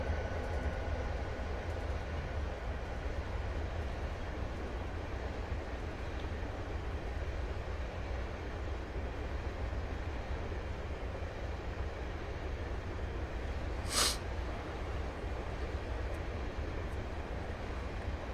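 A long freight train rolls past on the Soldier Summit line from Provo to Helper in Train Simulator 2016, a steady, heavy rumbling roar throughout with a brief sharp hiss or squeal near the end.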